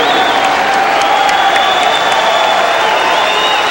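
A boxing crowd at the end of a bout between Bash Ali and Bobby Czyz keeps up steady, dense applause and cheering, with whoops rising now and then out of a constant roar.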